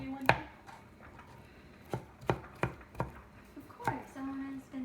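An avocado is cut into squares with a knife on a board for a spicy ham and rice pilaf: a handful of sharp, separate chops land at an uneven pace, close and fairly quiet, with soft background sound between them.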